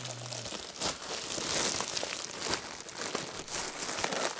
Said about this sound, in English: And I'm going to unwrap it.